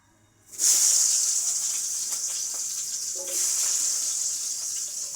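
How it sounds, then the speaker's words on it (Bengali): Potatoes frying in onion-flavoured oil for an echorer (young jackfruit) dalna: a loud, steady hiss of sizzling that bursts in abruptly after a brief quiet start and holds unbroken, swelling slightly midway, with faint stirring clicks and no talking. "এই তেলটা আমি জিরো ফোড়ন দেবো আগে আলুটা ভেজে নিই"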